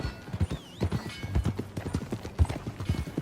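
Horse hooves clip-clopping at a steady walking pace in the western video game Red Dead Redemption 2, close and rhythmic with a faint whinny and light ambient background, no talking.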